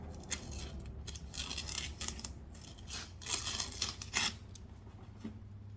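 Packing tape being peeled off the interior of a case, quiet crackling and ripping bursts with small handling clicks, close and faint, no talk.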